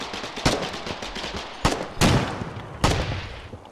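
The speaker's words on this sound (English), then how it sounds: "They are shooting at border patrol." Gunfire in the online war game Foxhole, with four sharp shots at uneven intervals ringing out over a dense bed of distant battle noise and crackle.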